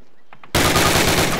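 Rapid automatic rifle fire from a Call of Duty training range, a loud sustained burst of rounds at a target after a brief quiet start with faint clicks.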